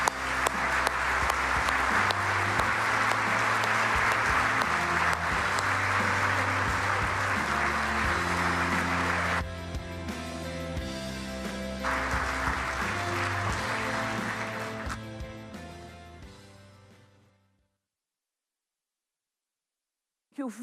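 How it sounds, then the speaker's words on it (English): At an award lecture, an audience applauds the 2024 Mildred Weisenfeld award winner. The clapping is dense and sustained, with a sustained pitched tone beneath it, then it thins out and fades to silence. "I would like to give a big applause to our 2024 Mildred Weisenfeld"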